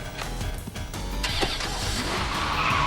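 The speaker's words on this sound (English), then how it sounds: "Munchie pushes the doctor over and takes control of the Jeep" Cartoon chase scene with a Jeep driving and skidding: a steady loud engine roar with a tire screech rising partway through, under busy background noise and music.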